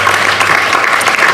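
Spectators at the end of a women's football match applaud in a dense, loud burst of clapping, brief and close, with no voices standing out.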